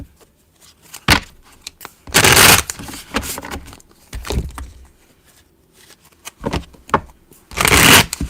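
Three combined decks of playing cards being shuffled in split portions, giving short papery riffling bursts at irregular intervals, two of them longer and louder, with quiet handling sounds between.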